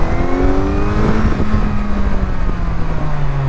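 A 2026 Kawasaki Z900 motorcycle accelerates hard through gears while its quick shifter is tested, engine pitch climbing and dropping with each shift, loud and close with steady road and wind noise, no talk.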